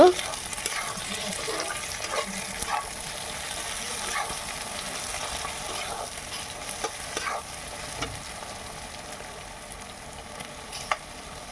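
Tomato pieces fry for a mutton curry, a steady low sizzle broken by scraping stirs from a spatula, moderately close and fairly quiet throughout.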